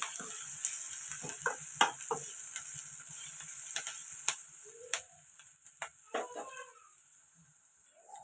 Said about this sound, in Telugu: ఉల్లిపాయలు ఇలా ఫ్రై అవుతాయి కదండి